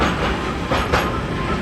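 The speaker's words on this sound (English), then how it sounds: "And I found this train track sound." Train wheels roll over railway tracks in a steady, loud rumble, with a faint rhythmic clatter and two brief hissy swells near the middle.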